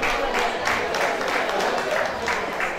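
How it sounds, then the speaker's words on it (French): Audience applause greeting a guest at a festival awards ceremony in Benin, a steady dense wash of clapping that holds evenly throughout with no voices over it. "On l'applaudit et on l'accueille, s'il vous plaît."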